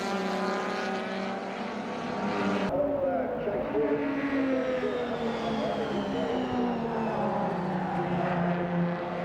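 Saloon race cars in a WA Sporting Car Club Valvoline Cup round run door to door through a turn, their engines a loud continuous drone with pitch sweeping downward as they brake and exit, close to the track.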